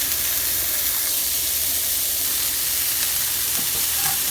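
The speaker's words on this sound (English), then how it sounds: "Listen to that sizzle." Beef burger patties sizzle in a smoking-hot stainless steel pan with vegetable oil, a steady, close, loud frying hiss that holds continuously throughout with no talking.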